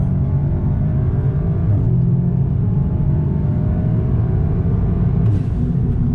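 A 2016 Audi S3 with a stage 1 tune and DSG tune accelerates hard, heard from inside as a steady deep engine drone and road rumble that hold evenly loud throughout, with a slight rise near the end.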